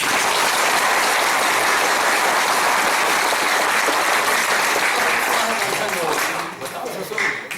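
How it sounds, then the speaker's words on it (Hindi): Dense, loud applause from an audience at a devotional Hindi stage performance about Ravana, sustained steadily before thinning and fading near the end, with voices mixed into the clapping. "जोरदार ताली बजाओ।"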